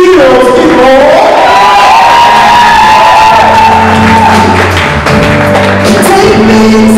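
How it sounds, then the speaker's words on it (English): A loud audience at a spoken-word poetry show greets the next poet with shouting, whoops and cheering. Drawn-out voices rise over a dense crowd roar that stays strong for the whole seven seconds. "Y'all start clapping right, y'all. Make some noise for your next poet."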